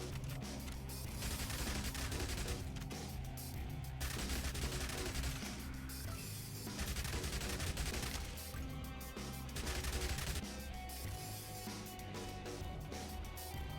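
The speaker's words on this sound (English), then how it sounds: "it just gives you a submachine gun" Rapid automatic submachine gun fire from Yet Another Zombie Survivors, a zombie-shooting bullet-hell game, rattling continuously under busy game sounds and music, with no voices.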